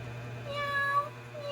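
A person's voice imitates a cat's meow for a seven-month-old baby: one drawn-out, tonal meow rising in the middle of the clip over a steady low hum.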